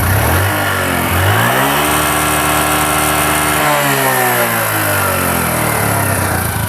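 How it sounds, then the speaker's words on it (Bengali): A Bajaj Platina 100cc motorcycle starts and runs at a loud, steady idle close by, with its engine note rising and falling as the throttle is blipped partway through and no voices over it. "গাড়িটা স্টার্ট করে দেখাচ্ছি আপনাদের গাড়ি কিন্তু স্টার্ট হয়ে গেছে"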